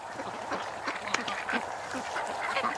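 Ducks quacking in a swamp, several calls scattered through a steady noisy background at moderate distance, with no talking.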